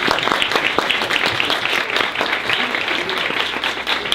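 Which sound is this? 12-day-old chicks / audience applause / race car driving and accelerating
audience applause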